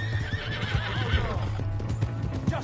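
Horse from Red Dead Redemption 2 neighing and whinnying in rising, wavering calls over steady clip-clop of galloping hooves, close and loud throughout.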